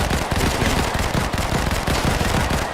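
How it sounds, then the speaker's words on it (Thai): Rapid automatic gunfire from a slow-firing rifle in Modern Combat 5 during a safehouse escape mission, a dense, loud, continuous burst of shots filling the whole moment with no pause. "ทำไมปืนนี้มันลั่นช้ายวะ"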